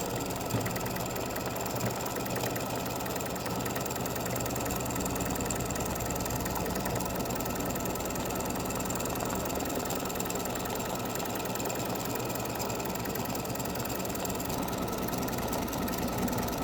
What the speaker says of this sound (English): Now it's getting ready to start the satin stitching on the outside of the basketball